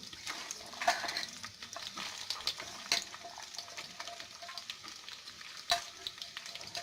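Onion frying in hot oil in a pan for mutton keema, a soft continuous sizzle with occasional sharp pops and light utensil clicks, close but fairly quiet, no talking.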